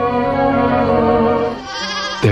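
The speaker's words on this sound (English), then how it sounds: "Here we are now. They're babies. They're lambs." Baby lambs bleat loudly and close by, one long wavering cry followed by a shorter higher bleat that breaks off at the end.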